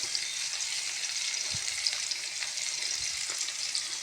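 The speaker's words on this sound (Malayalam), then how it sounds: "രണ്ട് വേപ്പിൻ്റെ ഇല ഇട്ട് കൊടുക്കുക. എന്നിട്ട് അതിൽ ഇട്ട് ഇളക്കുക." Curry leaves are stirred into a pan of hot oil, giving a steady close sizzle of frying with a few soft scrapes of stirring and no talk.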